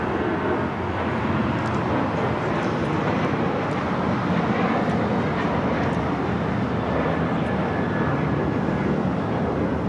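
An Alaska Airlines Boeing 737-800 takes off from runway 25 right at LAX, its jet roar loud and steady throughout with broad rumbling noise and no talk over it.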